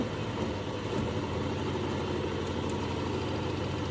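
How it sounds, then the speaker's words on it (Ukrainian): An electric motor runs steadily with a continuous mechanical hum and rapid regular pulsing, unchanging throughout, with faint high clicks near the end as a stroboscope is switched on. "Бачите, двигун обертається."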